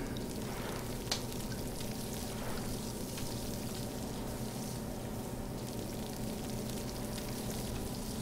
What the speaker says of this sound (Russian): Чтобы краба пожарить, нужно очень долго стараться.